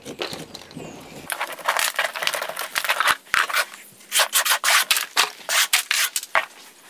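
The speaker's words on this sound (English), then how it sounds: "I like to use the tip of the needle nose pruners to get the soil away from the collar area." Tip of needle nose pruners scraping soil away from the collar of a large dahlia tuber clump, a close series of short dry scratchy rasps in quick bursts.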